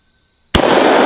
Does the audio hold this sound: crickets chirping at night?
no